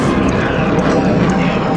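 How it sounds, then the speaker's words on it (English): A loud, steady aircraft roar fills the whole stretch, a broad continuous rumble with no pauses, like a jet engine running close by. "Its two huge jet engines have the power of 45 diesel locomotives."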